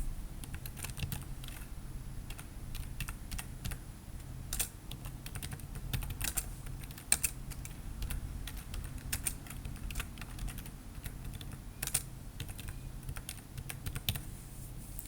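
A computer keyboard clatters with rapid, steady typing throughout, a dense run of close, crisp key clicks over a low room hum, with no voices.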